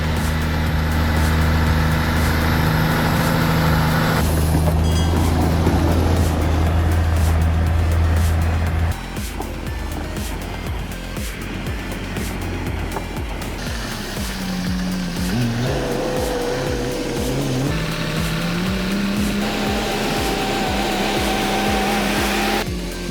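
A Kenworth K200 truck hauling three log trailers roars steadily close by, its heavy engine drone shifting pitch as it pulls under load on a dirt road, with no voices.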